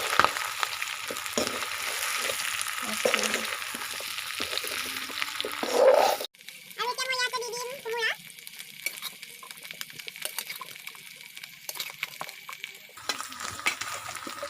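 Meat and potatoes sizzle and crackle steadily in a hot pan, loud at first, then quieter, with a brief clatter of stirring partway through.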